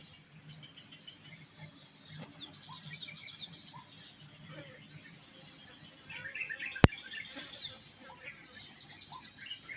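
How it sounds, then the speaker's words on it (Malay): Birds call and chirp back and forth over a steady bed of insect buzzing outdoors, with one sharp click partway through. "bunyi burung terus bersahut-sahutan."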